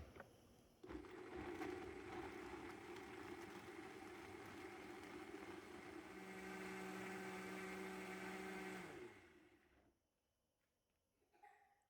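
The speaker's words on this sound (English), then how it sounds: "I'm going to cover with a lid and puree well." A blender purees chili sauce with fresh garlic, running steadily at high speed with a loud whirring motor, its pitch rising slightly near the end before it cuts off, leaving quiet.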